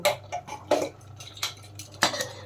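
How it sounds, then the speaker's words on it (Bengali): A pressure cooker lid being fitted on over chicken curry, a series of sharp metallic clanks and scrapes, close and irregular, about six distinct knocks in quick succession. "এখন আমি প্রেসার কুকারের ঢাকনাটা লাগিয়ে দেব।"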